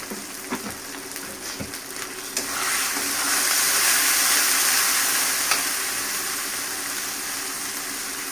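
Whole spices, including bay leaf, cinnamon sticks and cardamom pods, fry in hot oil in a home kitchen. A few light stirring clinks lead into a close, steady sizzle that swells and then holds loud without voices.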